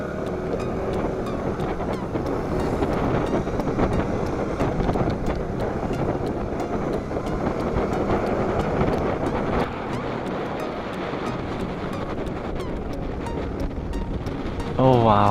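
A Kymco Racing King 180 ABS scooter rides through the mountains, its steady engine drone mixed with heavy wind buffeting on the microphone. The noise is continuous and close.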